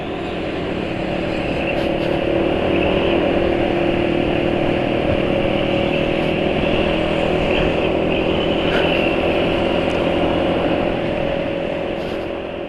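A running motor engine with cooking oil mixed into its engine oil gives a loud, steady, even drone that holds without a break from start to finish.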